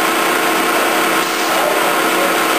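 Spindle of a Lucas/Femat table-type horizontal boring mill running at 320 RPM, the low end of its high speed range, giving a steady, loud broadband mechanical whir and hum with no variation over the whole stretch.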